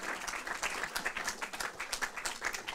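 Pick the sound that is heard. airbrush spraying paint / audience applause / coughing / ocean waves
audience applause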